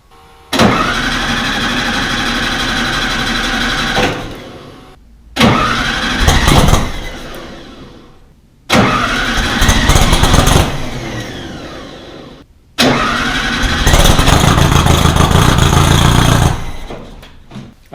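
A Volkswagen Baja Bug's 1600 engine cranks and fires up three times in a row at its first start, each attempt running loudly for a few seconds before cutting out, with short silences between.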